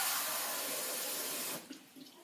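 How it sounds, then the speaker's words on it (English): Water gushes from a kitchen tap into a measuring container as about a cup is filled for brownie batter, a loud steady broadband rush that cuts off abruptly, followed by a few faint clinks and drips. "and then fill it up with water."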